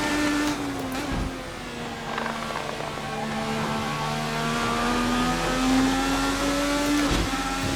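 A 2020 IndyCar race car is hot lapping in Assetto Corsa. Its high-pitched engine whine holds steady and then climbs and dips through gear changes, with brief blips, over a few seconds of continuous driving.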